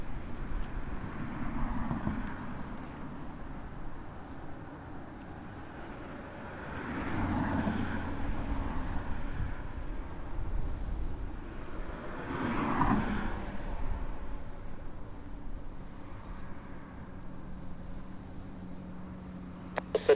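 Airliner engines at Los Angeles International Airport spool up for takeoff on runway 24 left, a distant low jet rumble that swells and fades in broad waves beneath faint wind noise, with no talk.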